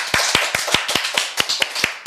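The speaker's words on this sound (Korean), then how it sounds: "우리 하나님께 감사의 박수 올리겠습니다." Rhythmic clapping from a church congregation during a Sunday service, about ten sharp, evenly spaced claps in quick succession, close and clear with no talk over them.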